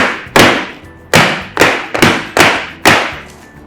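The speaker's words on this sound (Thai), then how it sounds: "เสร็จแล้วเราก็จะเคาะไล่อากาศค่ะ" A baking pan holding cake batter is knocked against a counter six times to drive out air bubbles, each a sharp loud thud with a short decay, spaced unevenly about half a second apart.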